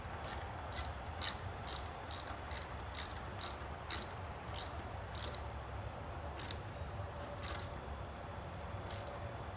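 A torque wrench with an 8mm socket ratchets a brake hose holder bolt tight on a Honda VTX 1300R motorcycle, giving a close series of sharp clicks in an uneven rhythm, alone without talk.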